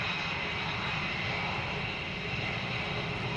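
An F-22 fighter jet flying, heard as a continuous, even engine roar at moderate distance, steady throughout with no voices.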